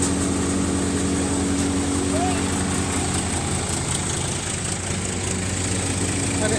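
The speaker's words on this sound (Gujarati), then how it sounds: "ટ્રેક્ટર 1100 RPM પર ચાલે છે" An Indo Farm 3048 TI tractor engine runs steadily at 1100 RPM, a continuous loud diesel drone with a low, even rumble throughout.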